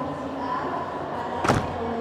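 A large luggage compartment door on a Legacy SR3 Neo FE Ultimate Edition bus swings shut with a single solid slam midway, set against steady engine hum and background ambience.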